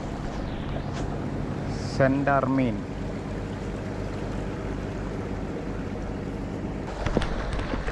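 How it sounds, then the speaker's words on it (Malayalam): A large trawling boat passes a breakwater, its engine a low, steady drone that persists the whole time under wind and water noise, with one person speaking briefly. "ആ പോണതാണ് ബോട്ടുകൾ കേട്ടോ. ബോട്ട്, ട്രോളിങ് ബോട്ട് എന്ന് പറയില്ലേ"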